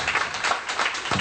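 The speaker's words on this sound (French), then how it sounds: "Applaudissez, alléluia" A church congregation applauding, a brief burst of brisk, fairly loud clapping from a crowd, steady and even throughout.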